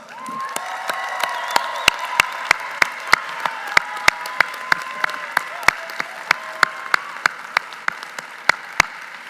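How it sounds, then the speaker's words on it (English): A university commencement crowd at UCF breaks into applause, with a thick wash of clapping and sharp, regularly spaced loud claps close by cutting through it for the whole stretch. "can you please show your appreciation of them with resounding applause?"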